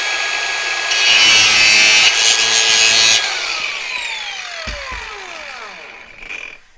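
Power tool cutting through a thin metal lock picking wire, a loud harsh grinding burst lasting about two seconds, then fading whine as the tool spins down, close by with no talk.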